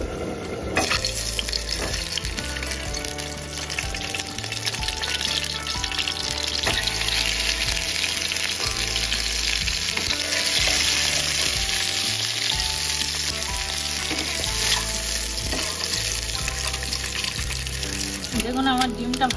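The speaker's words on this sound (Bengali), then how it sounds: "এখানে তেল দিয়ে দেবো, দিয়ে ডিমটা হালকা করে ভেজে নেব।" An egg frying in oil in a frying pan gives a loud, continuous sizzle throughout, with bubbling crackle that stays steady from start to end.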